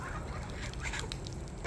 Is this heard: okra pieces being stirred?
no